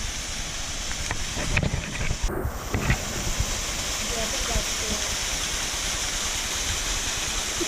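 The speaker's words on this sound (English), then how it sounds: "Got a cute little waterfall here." A small waterfall's steady rushing water spills continuously, a broad hiss that holds even throughout, with a few brief rustles and knocks up close early on.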